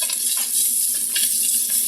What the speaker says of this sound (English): now that our oil's hot, we're going to go ahead and add our 3 cloves